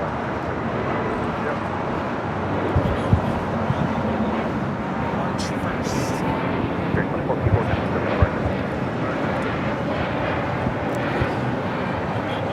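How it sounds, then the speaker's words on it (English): A Spirit Airlines Airbus A320neo takes off from LAX bound for Austin, a broad sustained engine roar with wind rumble, steady and fairly loud, with people talking over it now and then. "That was Spirit Airlines 2454 taking off to Austin on an A320neo."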